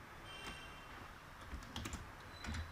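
A password is typed on a computer keyboard during macOS app installation: soft, quiet key taps in short irregular bursts, close by and alone.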